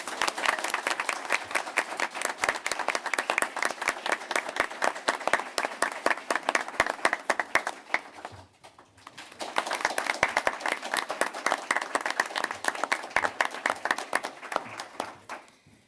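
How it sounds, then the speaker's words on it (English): Applause from a school board meeting audience honouring recognised students, steady dense clapping with a brief lull near the middle before it swells again, no voices over it. "Please join me in giving them a warm round of applause."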